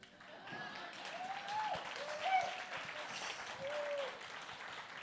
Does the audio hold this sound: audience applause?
yes